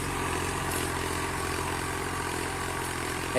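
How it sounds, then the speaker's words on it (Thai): A Kubota L3600 tractor engine drones continuously at a constant level while plowing a rice field, a low mechanical rumble with no pauses and no voices. "ตอนนี้เบิ้งรถไถเพิ่นไถปั้นดินแห่งๆไปก่อนครับพี่น้องครับ"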